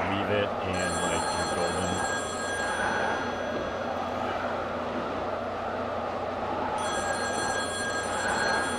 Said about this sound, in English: that phone call was like really creepy in itself